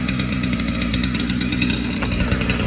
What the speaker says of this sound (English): Okay, that was not a good saw. The Ryobi 18-inch saw, no bueno.